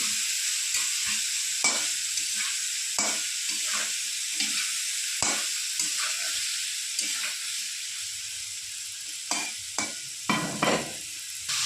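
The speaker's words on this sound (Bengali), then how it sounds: "সবজিটা ভাজা ভাজা হতে থাক" Vegetables fry in a pan for a fish chorchori, a steady close sizzle broken by repeated scraping knocks of a spoon stirring them.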